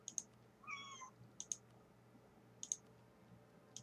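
A cat meows once in a short rising-and-falling call, faint and alone against a low steady hum, with sharp clicks repeating at intervals around it.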